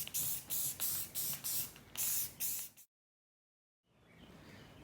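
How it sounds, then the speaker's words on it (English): Rust-Oleum flat black protective enamel sprayed from an aerosol can onto a Lexan hatch panel, in about six short, even bursts of loud, close hiss followed by silence and then a faint, steady hiss. "We should be ready to start spraying it with the flat protective enamel that I'm using from Rust-Oleum."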